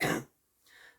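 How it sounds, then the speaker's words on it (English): A single short cough or throat clear, close and sharp, followed by a faint breathy trailing sound. "Sorry, I try not to cough."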